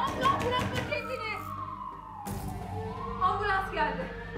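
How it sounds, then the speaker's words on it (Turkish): An ambulance siren wails in a long rising and falling sweep, moderately near, while voices and children talk over it. "Ambulans geldi."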